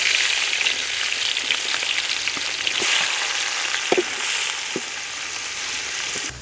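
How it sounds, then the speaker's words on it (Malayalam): Onions fry in hot oil in a pan for a Kerala-style duck roast, a loud, continuous crackling sizzle broken by scattered stirring clicks and scrapes, with no voices. "ഉള്ളിയൊക്കെ നന്നായി ഒന്ന് വഴണ്ടി വന്നിട്ടുണ്ട്"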